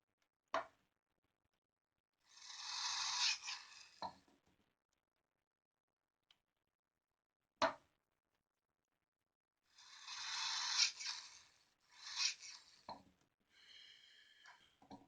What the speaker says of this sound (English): Now I think I can test it by just attaching power supply to it.